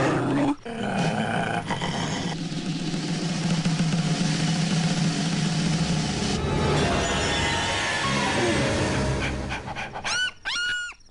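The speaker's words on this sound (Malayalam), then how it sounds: "പട്ടിയുടെ കുറയല്ലേ കേട്ടത്?" A dog panting and growling close by, with low rumbling growls and breathy pants, rising into sharper whimpering or yelping bursts near the end.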